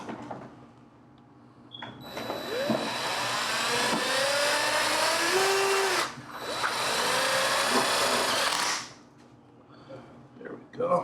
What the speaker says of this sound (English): I'll drill the holes. Pre-drill.